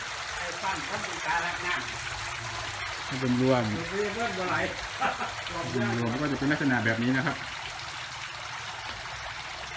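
Steady running water flows and splashes continuously from a recirculating indoor artificial waterfall with a pump, in the background while someone talks over it.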